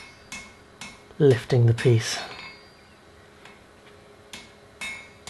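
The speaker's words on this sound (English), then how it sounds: "So I'm just using my big hammer again" A blacksmith's big hammer shapes a forge-welded Anglo-Saxon adze blade on the anvil, giving a few sharp, ringing strikes before and after a short spoken phrase.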